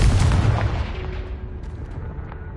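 A Confringo blasting spell from Hogwarts Legacy goes off as one loud, deep boom right at the start, then rumbles and fades steadily over a couple of seconds with no voices.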